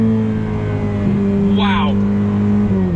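A Ferrari 488 Pista V8 blips sharply through rapid downshifts, heard from inside the car as a loud, continuous engine drone with quick rev flares, while someone talks over it.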